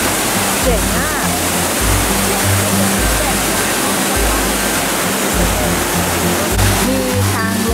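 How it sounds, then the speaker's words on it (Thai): The waterfall at Tad Sae near Luang Prabang, Laos, roars as a loud, continuous broadband rush, with someone speaking over it and low, rhythmic tonal sounds running underneath. "เดินลงมาที่น้ำตกข้างล่างนี้นะคะ"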